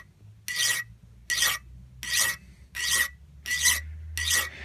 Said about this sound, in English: I'm just going to take a file and run it across the top here